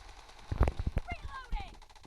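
Gunfire in PUBG Mobile played on a phone comes as a short cluster of rapid sharp shots, followed by a few fainter rising whooshing tones, brief and moderately loud.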